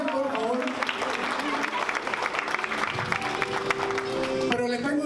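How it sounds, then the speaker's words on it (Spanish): Guests at a baby shower applauding a couple, a steady patter of many hands clapping under someone talking over a microphone throughout, with music tones also in the background. "Démosle un fuerte aplauso a esta hermosa pareja"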